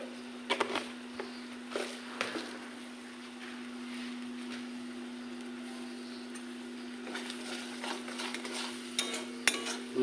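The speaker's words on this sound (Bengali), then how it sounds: "মশলাটা কষিয়ে নেব।" Spice masala with salt and a little sugar stirred and fried in a pan for prawn malai curry, a soft sizzle under repeated light spoon scrapes and clinks against the pan, with a steady low hum throughout.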